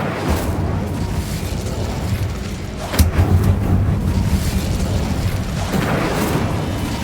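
A burst of the Incendio fire spell in Hogwarts Legacy gameplay, a sharp blast about midway followed by a roaring whoosh of flame over a steady rumbling background, with a second swell near the end.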